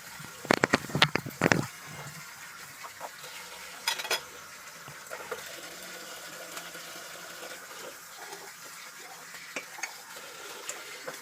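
Dishes are rinsed in a home kitchen sink. A quick flurry of clinking plates and utensils comes first, then running tap water hisses steadily with occasional soft knocks.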